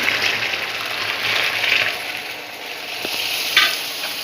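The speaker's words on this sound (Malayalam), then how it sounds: "ഇനി ഞാൻ ഇതിലേക്ക് നമ്മൾ 1 ഗ്ലാസ് ചൂടുവെള്ളം ഒഴിക്കാൻ പോവുകയാണ്" Hot water being poured into a pan of Tirunelveli halwa, sizzling and bubbling steadily, with stirring scrapes and a brief louder splash near the end, no talking.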